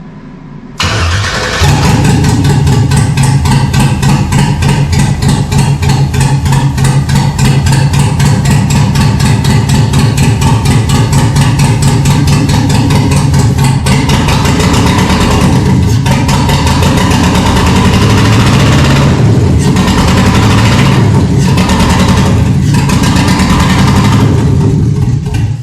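An LS-swapped 1974 Chevy, running without exhaust, cranks and fires on its second start, then settles into a loud, steady, rough idle close by, with a few brief revs late on.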